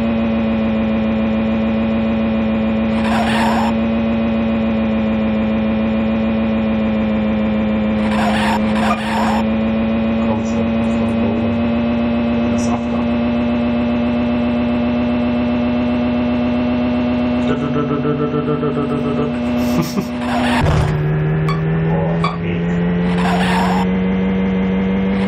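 A synthesized car engine drones loudly and continuously in the Amiga racing game Lotus Esprit Turbo Challenge, with pitch shifts as it changes gear and several short bursts of tire screech over the steady tone.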